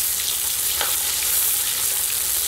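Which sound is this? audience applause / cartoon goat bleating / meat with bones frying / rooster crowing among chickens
meat with bones frying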